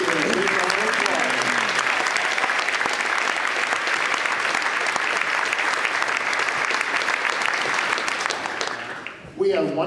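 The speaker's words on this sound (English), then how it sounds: "Let's give them a big round of applause." A concert audience at a Christmas symphonic performance gives a big, dense round of applause for honor band members. The loud, sustained clapping runs nearly throughout, and a voice speaks briefly at the start and as it fades.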